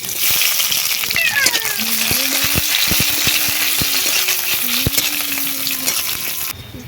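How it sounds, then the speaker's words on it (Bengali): Bay leaves, panch phoron five-spice and chopped onion sizzle loudly and steadily in hot oil for a spicy crab curry, with occasional spoon clinks against the pan and a faint voice in the background. "তেল গরম হয়ে গেছে দিয়ে দিচ্ছি তিনটে তেজপাতা পাঁচ ফোড়ন দিয়ে দিচ্ছি পেঁয়াজ কুচি"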